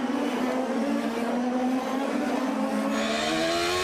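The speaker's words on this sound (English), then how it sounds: "you'll get an idea of the beautiful sound of these Ford Cosworth V8s" Ford Cosworth V8 engine in a 2006 Champ Car on the Surfers Paradise street circuit, droning steadily and loudly as an onboard lap is driven, its pitch rising gradually toward the end through short-shifted gears.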